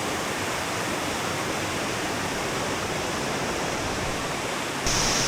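A waterfall inside a cave in Chiapas, Mexico, a steady loud roar of rushing water filling the whole clip, with no voices.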